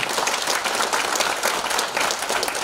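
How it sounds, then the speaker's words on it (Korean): Steady, thick applause fills a talk seminar hall as the audience claps on request, a continuous wash of many hands at constant loudness with no clear speech over it. "예, 다시 한번 큰 박수 부탁드립니다."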